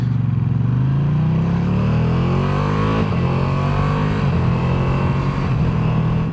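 A 2022 Ducati Streetfighter V2 pulls away, its engine note rising steadily through the gears as it accelerates off, loud and continuous with no voices.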